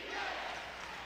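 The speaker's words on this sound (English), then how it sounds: "The crowd chants defense" Basketball arena crowd at a college game, Southern Illinois at Drake, with a dense, steady roar of many voices chanting "defense" throughout a short burst, loud and enveloping with no single voice standing out.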